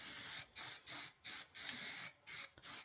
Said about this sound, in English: Back in the budget paint booth for round 2. I'll give this a couple of coats of X primer.